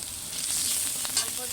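Spices frying in a pan with fish curry cooking underway, a short bright sizzle with a soft stir near the end, no talking.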